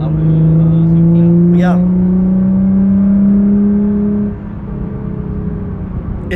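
A Nissan GT-R with a full exhaust system drones loudly from inside the cabin while driving, a strong steady engine note that eases off near the end, as a passenger makes a brief remark.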